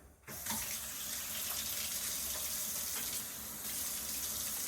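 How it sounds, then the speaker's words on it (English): Water runs from a newly installed tap in an off-grid cabin fed by a well pump. After a brief quiet moment it gushes in a steady, continuous stream into the sink. "There you have it, running water."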